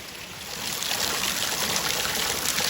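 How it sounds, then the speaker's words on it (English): Heavy rain runs off near a rhubarb plant outdoors, making a steady, close, rushing trickle and splash. "now look at all the rain running off over here now"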